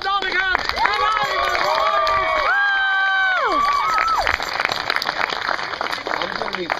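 Theatre audience cheering and applauding at the finale of a stage production, loud whoops and high shouts sliding over continuous clapping, dense and close throughout.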